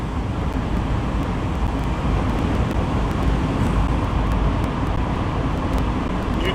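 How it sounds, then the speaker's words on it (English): Road noise inside a truck on a highway trip, a loud, constant roar of tires and engine with a wind-like rush that never lets up. "It's probably just background noise from the truck."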